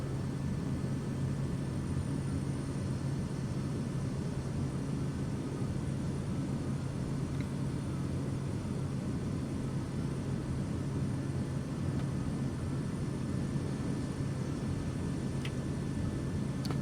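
A Kodiak 100 turboprop airplane on approach to land at Acapulco, a steady droning engine hum with constant rumble and whine, even in loudness throughout, no voices.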